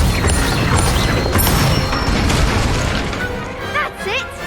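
Incendio fire spell cast in the Hogwarts Legacy video game, a loud whooshing burst and boom amid dense game effects and music, with a voice speaking briefly near the end.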